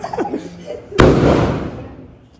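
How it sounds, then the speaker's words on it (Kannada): A single firecracker goes off outdoors with a sharp, loud bang, followed by a lingering crackling roar that slowly fades, preceded by brief talk. "ಇವರು ಪಟಾಕಿ ಹೊಡಿದ್ರು"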